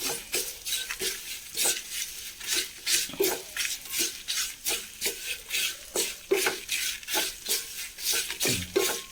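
Roasted spices for sambar stirred in a hot pan with the gas off, a steady rhythm of scraping spoon strokes against metal repeating about twice a second, light sizzle beneath, close and clear.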